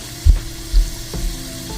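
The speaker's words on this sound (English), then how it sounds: "While that one is frying" Guyanese bakes, dough pieces frying in hot oil, give a steady close sizzle with a few soft bumps and clatters over it.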